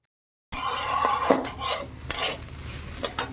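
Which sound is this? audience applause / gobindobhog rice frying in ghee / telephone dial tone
gobindobhog rice frying in ghee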